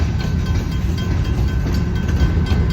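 A northbound Ann Arbor Railroad grain train rolls past at a State Street crossing, giving a continuous low rumble with faint rhythmic clatter of wagons, steady and fairly close, with no talk.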